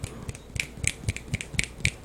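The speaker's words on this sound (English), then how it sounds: "I can't snap my fingers." Finger snapping, a quiet series of about eight crisp snaps at a fairly even rhythm, close by and isolated, with no talk over them.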